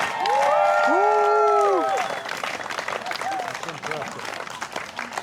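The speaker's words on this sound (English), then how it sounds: "Keep clapping, family. The louder you clap, the higher they climb." An audience claps and cheers for coconut tree climbers, loud mixed shouts and whoops over steady clapping that drops a little halfway and carries on as a dense crowd roar.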